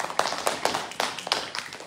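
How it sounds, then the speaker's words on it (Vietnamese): Scattered hand claps from a small audience at a Buddhist dharma talk in a meditation monastery, a few sharp, uneven claps spaced across a short moment rather than full applause. "xin một tràng vỗ tay tặng cho chú"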